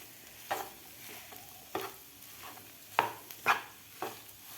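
A spoon stirs a salted potato mixture for fasting batata vada in a pan, with quiet sizzling and a handful of sharp, irregular scrapes and taps spread across a few seconds, close and without speech.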